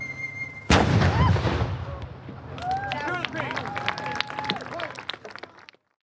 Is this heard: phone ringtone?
no